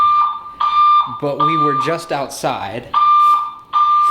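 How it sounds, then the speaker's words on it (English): A fire alarm at 3 a.m. sounds a shrill steady tone in bursts, broken by a loud spoken voice that partly masks it before the tone returns. "That's a fire alarm."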